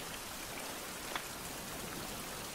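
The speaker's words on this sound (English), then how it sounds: "And it's still raining." Steady rain falls outdoors as a continuous even hiss with faint drop patter, at moderate distance and with no voices.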